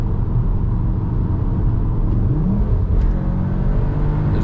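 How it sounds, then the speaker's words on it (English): A 2021 Cupra Formentor VZ at full throttle on a night drive, heard from inside the cabin as a loud, constant low engine rumble and road roar that rises slightly in pitch as it accelerates. "I'm gonna floor it."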